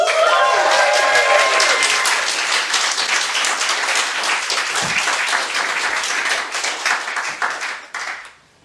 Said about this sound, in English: a very large round of applause to Mr. John Dilworth